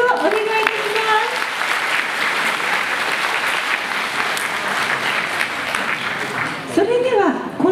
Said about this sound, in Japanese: もう一度大きな拍手をお願いいたします。